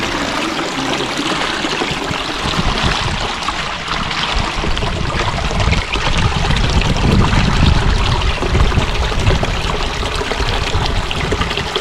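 A steady, loud rush of flowing water, like a stream running close by at night. It continues without a break and no one speaks.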